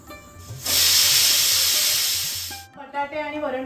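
A 3-litre Prestige pressure cooker on a gas stove releases a loud, steady hiss of steam that holds for about two seconds and then cuts off, leaving quieter room sounds.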